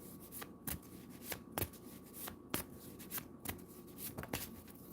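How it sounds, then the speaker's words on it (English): Cards are shuffled again and again, each riffle a sharp rattling burst followed by softer handling, close and fairly quiet, with no voices. "You guys heard me over here shuffling."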